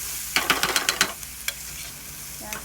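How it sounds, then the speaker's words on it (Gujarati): Garlic sautéing in hot oil for garlic chutney, heard as a steady close sizzle under a quick run of scraping stirring strokes, with a few more later, and no talk. "અને આપણે સરસ લસણને આ તેલમાં સાતળીશું."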